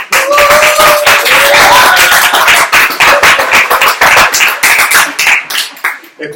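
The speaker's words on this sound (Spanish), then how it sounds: "Ahora el aplauso." Live audience at a Spanish-language comedy show breaks into dense clapping, loud and close, with a few voices shouting over it before the applause thins and fades near the end.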